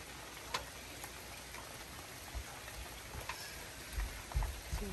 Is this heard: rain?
yes